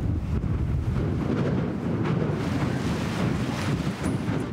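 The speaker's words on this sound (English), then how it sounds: "Listen to that wind." A strong, steady southerly wind roars and buffets without a break at Dunedin's Royal Albatross Centre, a dense rushing rumble that stays loud throughout.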